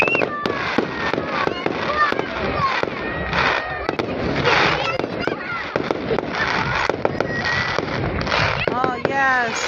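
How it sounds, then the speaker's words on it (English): Fireworks burst at a night show in Mildura: a rapid run of booms, crackles and whistling shells, fairly close and loud, while excited voices call out underneath. "Whoa, it was fireworks."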